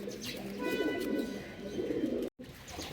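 A home-bred Jiragola racing pigeon coos continuously and fairly close, a warbling low rumble that holds steady with a brief break near the end.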